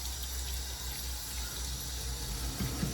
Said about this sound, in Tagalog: Okay, banlawan ko ulit.